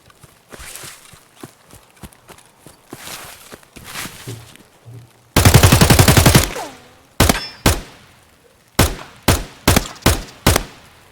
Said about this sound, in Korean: 앞에 총소리.